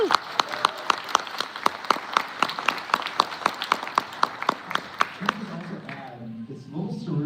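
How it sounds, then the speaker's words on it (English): Convention panel audience clapping in unison at a McFarlane Toys panel, a loud rhythmic beat of many hands on a steady pulse for about five seconds, then fading into scattered claps and crowd murmur. "So if you guys like the DC Multiverse line, just give me do a round of applause here too."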